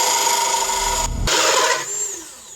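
A power drill runs close by, tightening screws into a prototype bamboo wind chime, its whine holding steady for a couple of seconds, cutting out briefly, then winding down with a falling pitch.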